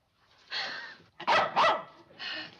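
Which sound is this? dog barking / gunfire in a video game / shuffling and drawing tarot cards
dog barking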